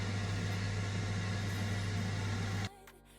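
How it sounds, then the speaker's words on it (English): A Ninja Foodi air fryer warming up at 260 degrees, a steady close whirring hum of its fan and heater that runs evenly for a few seconds, then cuts off abruptly into near quiet. "that's ready to go into the Ninja Foodie. 260 degrees, it's warming up"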